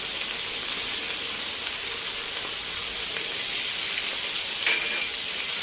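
Meat frying with spices in a pot for an Egyptian meat, onion and potato tagine sizzles loudly and continuously, with a steady hiss and faint stirring throughout.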